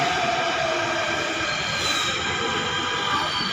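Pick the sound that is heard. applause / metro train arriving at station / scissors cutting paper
metro train arriving at station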